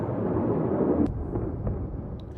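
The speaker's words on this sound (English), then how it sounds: "So you can see right there, the first explosion." A deep, rumbling boom rolls out and lingers as a low roar, with a few faint cracks and pops trailing off; distant-sounding and sustained.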